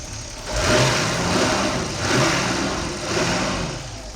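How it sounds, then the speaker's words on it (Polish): An old Opel Senator A1 car engine idles steadily, with a low mechanical rumble that swells and eases a few times, close by and with no talking. "Słuchajcie, ten silniczek chodzi bardzo pięknie."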